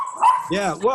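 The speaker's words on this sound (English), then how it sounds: "sorry if you hear dogs barking" Dogs bark and yip close by indoors, a short burst of yelping that overlaps a person talking.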